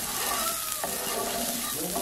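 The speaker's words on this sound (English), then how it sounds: "heat up your pan, add some butter, just make sure it coats the whole pan" Butter sizzles in a heated pan for crepes, a steady bright crackling hiss that stays even throughout.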